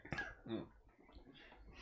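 A few short, quiet coughs close by, followed by soft throat noises in a hushed room.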